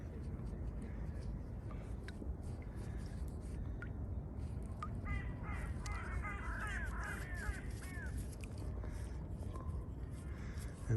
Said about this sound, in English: And as you can hear, the birds are out.